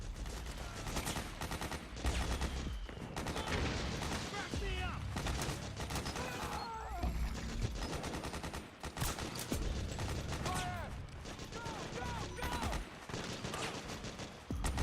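Sustained gunfire from Metal Gear Solid 4 gameplay, dense bursts of automatic fire and shots pouring continuously into a dead body, loud and unbroken, with a voice talking over it at times.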